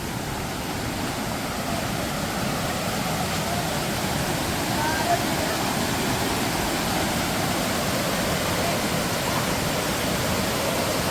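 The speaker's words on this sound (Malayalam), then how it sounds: "അപ്പം ഞാൻ ആ വെള്ളച്ചാട്ടം നിങ്ങൾക്കൊന്ന് കാണിച്ചു തരാം." Orakkanpara waterfall in Pathanamthitta heard from near its base, a loud continuous broadband rush of falling water that stays unchanged throughout.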